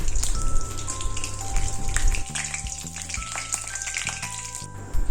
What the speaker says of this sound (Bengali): ফোড়নটা আমি একটু ভেজে নেব।